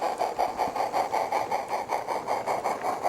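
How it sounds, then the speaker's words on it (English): A 3-foot narrow-gauge steam locomotive, a former waterworks engine, hauls a passenger train with a steady, rapid rhythmic chuff and a mechanical rumble, close and continuous, with no talk. "loco number 23 Bunbury takes out the mid-morning down passenger train"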